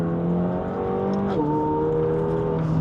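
A McLaren 720S sports car accelerates on a race circuit in Dubai, its engine tone rising steadily, then dipping briefly with a gear change before climbing again, heard from inside and close.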